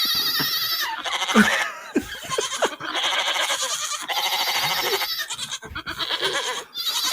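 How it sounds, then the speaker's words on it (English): Rapid, repeated bleating rings out in quick bursts almost without pause, loud and close, sounding like sheep or goats calling over and over. "That sounds like a sheep machine gun."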